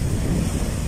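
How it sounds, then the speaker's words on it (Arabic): Strong wind blows at the seashore during a shore-fishing trip, a loud, continuous broadband roar and microphone buffeting with no breaks. "الريح النهارده الساعتين دول شادد خالص"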